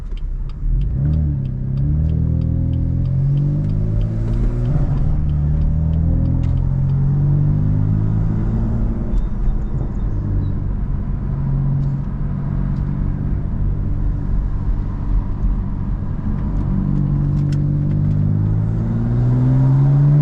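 A BMW M4 engine while driving, heard from inside the car as a loud continuous rumble with harmonic tones that rise and fall through several shifts and accelerations over about twenty seconds, no talking.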